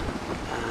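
Ship engines give a steady low rumble mixed with wind noise as the vessel arrives at port in Napier, New Zealand, early in the morning; a short, continuous stretch with no voices.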